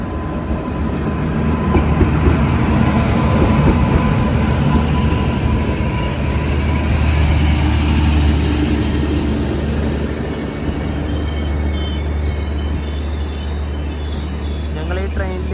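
Konkan Kanya Express train arriving and passing close by, a loud continuous rumble and rattle of wheels and wagons for the whole stretch, with a low engine drone underneath and a faint tonal whine near the end.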